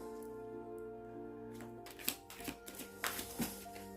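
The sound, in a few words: shuffling tarot cards before drawing three cards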